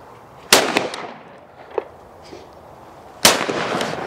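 Two sharp, loud Blaser shotgun blasts at clay targets, a few seconds apart outdoors, each with a short ringing decay and faint echo, and no talking between them.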